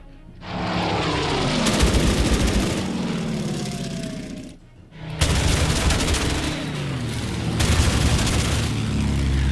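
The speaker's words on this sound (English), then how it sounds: "Then we are sending out reconnaissance float planes in an attempt to find our carrier fleet." Reconnaissance float planes roar overhead in Order of Battle: Pacific at Pearl Harbour, a loud sustained engine drone with booming bursts. It cuts out briefly midway, then resumes just as loudly.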